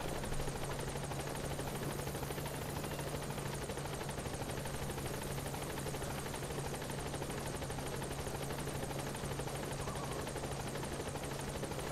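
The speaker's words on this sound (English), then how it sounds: "Support helicopter has arrived." Support helicopter in Metal Gear Solid V hovers with a steady, dense rotor roar and thumping blade hum, loud and continuous throughout, with no talking.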